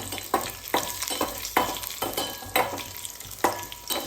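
Curry leaves and chilies frying in hot oil for tomato pickle, a soft continuous sizzle broken by repeated stirring scrapes at irregular intervals.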